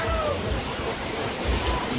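Heavy rain pours down during a strong storm over a reservoir area in a Brazilian region, a steady dense hiss filling the scene without pause.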